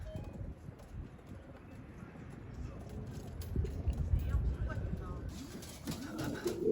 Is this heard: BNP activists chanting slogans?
no